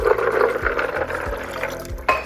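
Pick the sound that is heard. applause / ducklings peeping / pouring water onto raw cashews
pouring water onto raw cashews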